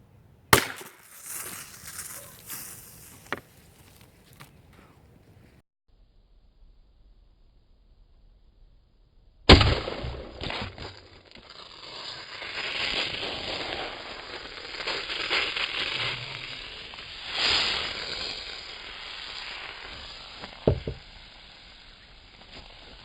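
A .22 Long Rifle is fired point-blank into a 16.9 oz plastic bottle, giving a sharp crack after a quiet pause, followed by sustained loud hissing and splashing noise with a couple of smaller knocks.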